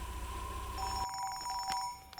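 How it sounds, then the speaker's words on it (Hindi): A telephone rings in a Hindi-dubbed film scene, a short electronic ring tone with sustained tonal bursts, clear and alone over a low room background. "मुरली का फोन आ गया।"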